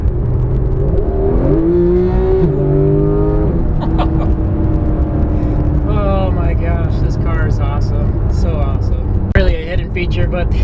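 A Porsche GT3 engine revs and climbs through gears with a loud, throaty exhaust, pitch rising and falling repeatedly, while someone talks over it.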